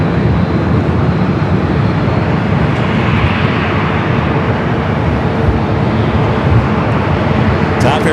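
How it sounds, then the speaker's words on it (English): A TAP Air Portugal Airbus A330neo arriving at LAX from Lisbon roars loudly and continuously. The broad, steady jet rumble holds for the whole stretch, close and dominant, with a voice talking beneath it. "TAP Air Portugal and the Star Alliance livery coming in from Lisbon, A330neo."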